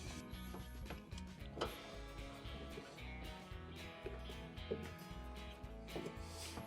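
Screws being driven in to secure the bake element inside a Samsung stove, heard as a close, repetitive ratcheting tick of a hand tool in short mechanical bursts.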